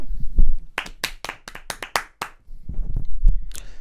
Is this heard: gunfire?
no